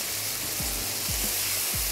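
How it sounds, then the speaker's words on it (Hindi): Mutton being fried and stirred in a pan with onions for dahi bhindi, continuous close sizzling with a few low scraping stirs at regular intervals. "यहाँ पर गोश्त को भी भून लेते हैं"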